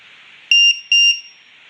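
A LiPo battery voltage alarm gives two sharp, loud electronic beeps in quick succession, each a piercing tone about a fifth of a second long, over a faint hiss.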